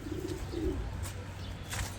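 Racing pigeons at a loft cooing faintly, low murmuring coos under a steady hum of background noise, with a few light chirps.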